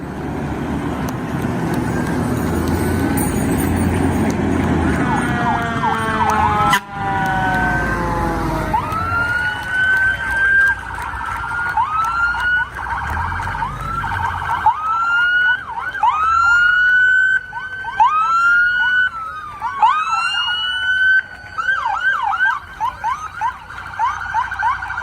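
Police cruisers, fire trucks and ambulances in a parade outside a hospital, their sirens wailing and whooping together in overlapping rising and falling sweeps. The sirens start loud with rumbling engines and continue steadily, with repeated yelps and wails up close.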